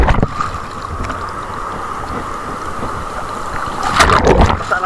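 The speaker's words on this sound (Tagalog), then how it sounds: "Grabe alon mga kabaktas." Rough sea swells slapping and crashing against a small fishing boat, with steady wind and water wash throughout and a louder surge of splashing near the end.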